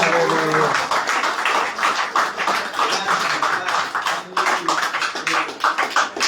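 A congregation at a Spanish-language church service claps together in dense, brisk, continuous applause that fills the room, with voices mixed in.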